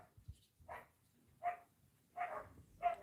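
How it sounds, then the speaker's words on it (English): Dogs barking outdoors at some distance, four separate short barks spaced out over a few seconds against a quiet background. "I hear my dogs like outside."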